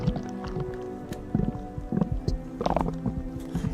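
Gloopy, burbling pool of hot liquid in the video game Morrowind, thick bubbles popping in an irregular low rhythm, moderately loud and close, with no talk over it.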